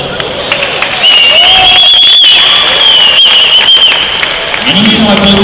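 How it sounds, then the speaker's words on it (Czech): Audience applause and cheering at a youth floorball cup awards ceremony in Ostrava, a sustained dense wash of clapping from a crowd across most of the clip, with a high whistle-like tone running over it. "Prosím o potlesk."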